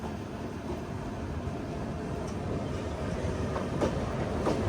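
The Vrindavan Express, painted in WB7 livery and bound for Bangalore, rumbles past close by with a continuous rolling roar and rhythmic clatter of wheels that swells slightly toward the end, with no talking.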